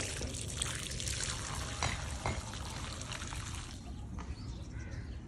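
Water poured onto a plant in an outdoor garden setting, a steady broad splashing wash that keeps fairly loud throughout, with a few faint bird calls in the background and no talking.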